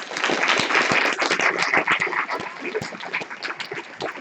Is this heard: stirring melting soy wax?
no